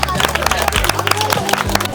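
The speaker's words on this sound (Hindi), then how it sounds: "चलिए जोरदार ताली मारिए इनको लिए।" A crowd bursts into loud, dense clapping for a challenge winner at a bottle-touch game event, with excited voices and chatter mixed through the applause.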